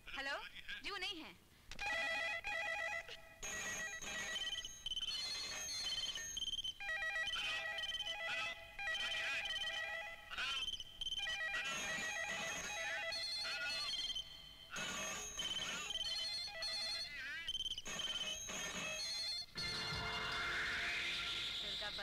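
An old telephone bell rings in a 1993 Hindi action film scene, sounding as repeated bright, metallic bursts of ringing with short gaps between them, loud and insistent across the whole stretch.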